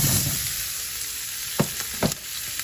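Vegetables for a Cajun shrimp and sausage skillet drop into melted butter in a skillet and sizzle with a constant hiss. Two dull knocks from the pan come near the end.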